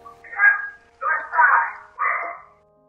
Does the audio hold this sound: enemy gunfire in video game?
no